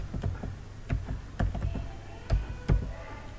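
Typing on a computer keyboard in Windows 11: a short burst of close, distinct keystrokes in uneven rhythm, with several firmer presses standing out, and no talking.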